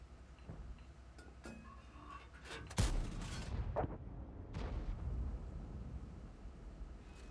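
A tank cannon firing in World of Tanks, one loud, sharp blast with a rumbling tail, followed by a smaller boom, amid steady engine and battlefield noise.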